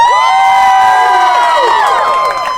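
A crowd of wedding guests cheers and whoops loudly and continuously, a dense wall of excited voices with high shouts rising over it throughout, fading only slightly at the very end.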